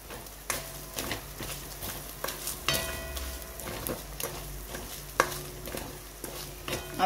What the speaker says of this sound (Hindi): और जैसे ही प्याज थोड़ा सा ट्रांसलूसेंट हो जाता है हम डालेंगे लाल मिर्च इसमें